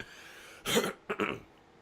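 An adult with a head cold and chest congestion coughs twice, close to the microphone, a harsh chesty burst followed moments later by a second, broken cough, with quiet room tone around it and no talking.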